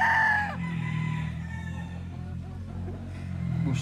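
A Boston Millionaire roundhead gamefowl rooster crows briefly and fairly close at the start, then someone talks over a steady low background rumble.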